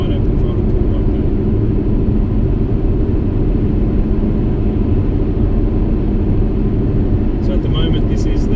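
A car engine under a wide open throttle pull, a loud, steady roaring drone that holds constant throughout with no breaks.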